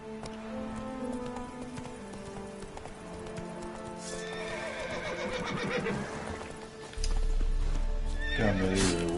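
Roach, the horse in The Witcher 3, gallops with steady clip-clopping hoofbeats and lets out a loud whinny near the end, with game music playing underneath.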